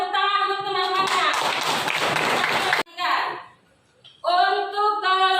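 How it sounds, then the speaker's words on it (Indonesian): Classroom applause from schoolchildren for their classmates, a short burst of clapping that cuts off abruptly, with a teacher and children talking before and after it. "Tepuk tangan untuk teman-temannya."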